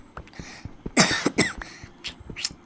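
A burst of harsh coughs, two or three strong hacks close up, followed by a couple of smaller coughs and breaths.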